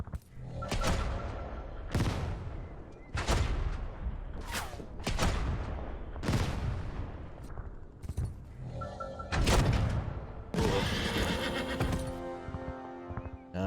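A horse neighs repeatedly in a WWII tactical tank game, several loud whinnies in a row, mixed with explosion-like bursts and sharp game effects.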